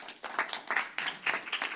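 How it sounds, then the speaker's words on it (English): Volunteers at a spiritual center gathering get a brief round of applause, a scattered crowd clapping in uneven bursts at moderate volume. "Give yourself a pat on the back and give them a round of applause."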